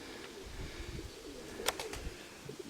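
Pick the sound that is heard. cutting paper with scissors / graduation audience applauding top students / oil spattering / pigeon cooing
pigeon cooing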